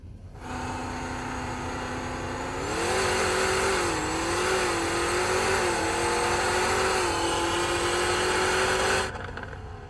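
A Mustang no-prep drag car launches hard, its engine roaring loud and close as the revs climb and waver over several seconds before cutting off abruptly.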